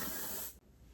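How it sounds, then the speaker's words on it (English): Hairspray is spritzed onto finished curls in one steady, close, hissing burst of about half a second, which then cuts off and leaves quiet room tone. "All I'm going to do is give them a little spritz of hairspray."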